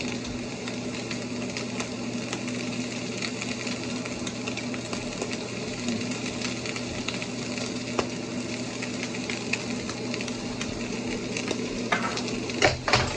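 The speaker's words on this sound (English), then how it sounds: "We're taking a little bit of butter on that on the steak." Steak searing with butter in a hot pan, a steady sizzle beneath a low constant hum, with scattered light clinks and scrapes of utensils growing busier toward the end; close, no speech.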